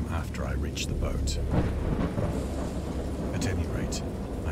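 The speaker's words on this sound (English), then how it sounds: "I know that I heard peals of thunder and other tones which nature utters only in her wildest moods" Thunder rolls continuously through a wild storm, a deep rumble with rain noise that stays loud throughout, with a voice speaking over it.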